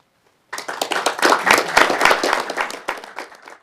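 Applause breaks out suddenly after a moment of silence and continues steadily, a roomful of hands clapping, then thins slightly toward the end.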